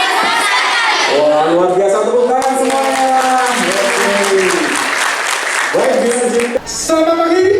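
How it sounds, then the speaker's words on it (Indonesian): A crowd at an Indonesian adolescent girls' health event claps loudly and steadily, with voices calling out and cheering over the applause throughout. "tepuk tangan semuanya"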